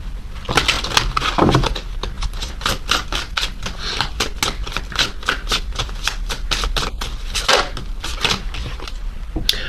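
A tarot card deck being shuffled close up, with a rapid, continuous run of crisp flicking and riffling card sounds that lasts about ten seconds.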